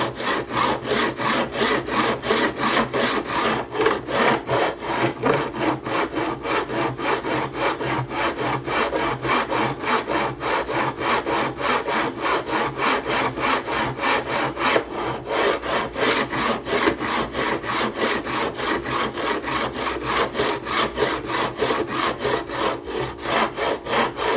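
A flat block is drawn back and forth along new guitar frets to file a bevel on them, giving a steady, rapid rasping stroke rhythm that stays close and continuous throughout, with no talking.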